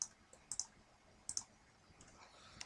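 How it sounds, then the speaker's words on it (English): Sparse clicks of typing on a computer keyboard, a few light keystrokes in small clusters with gaps between, close and quiet against a faint background. "So you're going to type that in right here."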